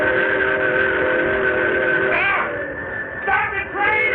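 Steam train whistle from a 1950s radio mystery drama, a loud sustained chord-like blast with wavering bends and a second whistle burst over a rumbling rail background.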